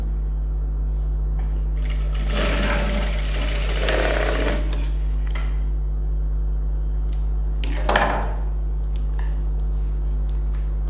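A sewing machine stitches a folded dart on a blouse, its steady mechanical whir humming close by, with a couple of brief bursts of louder running and a sharp clack near the end.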